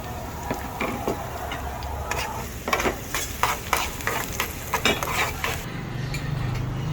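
Garlic fries in cooking oil with a constant sizzle, while a utensil stirs and scrapes against the pan in irregular clinks and taps, close and fairly loud.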